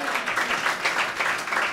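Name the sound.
congregation clapping applause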